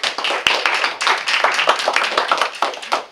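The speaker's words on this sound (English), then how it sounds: "So let's give a round of applause." An audience at a candidates' forum breaks into applause, a dense, loud wash of many hands clapping close by, steady for a few seconds with occasional sharper individual claps.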